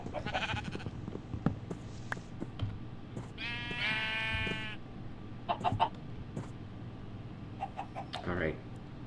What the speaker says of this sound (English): I have found sheep, and unfortunately I am going to have to kill them off because I do not have shears